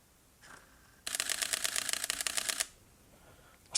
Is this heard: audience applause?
no